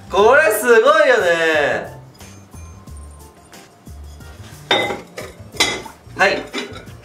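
A plain white clay donabe pot clinks and clatters as it is unpacked, with several knocks and rattles sounding close while people talk over them.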